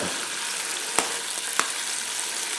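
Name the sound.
clams frying in a pan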